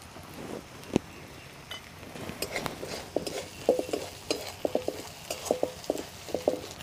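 Turmeric and chili powder go into a frying tangra fish curry in a village kitchen, followed by soft sizzling and a series of light scraping, stirring clicks from a utensil against the pan.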